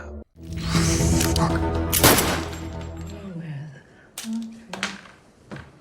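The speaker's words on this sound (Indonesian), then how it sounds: "Dia langsung menembak Olsen" Gunfire in a TV series scene sounds as a sharp crack amid loud dramatic music and effects, followed by thuds and brief tones as the sound fades.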